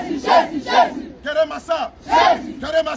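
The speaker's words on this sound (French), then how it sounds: "Cri de guerre." A crowd at a church gathering shouts a battle cry in unison, three or so loud rhythmic bursts with short gaps between them, ringing with a roomy echo.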